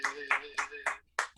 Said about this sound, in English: another round of applause for Marty.